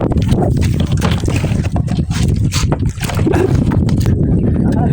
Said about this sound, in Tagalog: Sagwan mo itong malaking bangka.